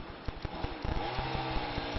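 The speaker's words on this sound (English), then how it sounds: "after he's finished sawing up some firewood on the side of the hill" Chainsaw cutting firewood on a hillside: a steady buzzing drone, moderately distant and fairly faint, with small bumps as the engine load shifts and no talk over it.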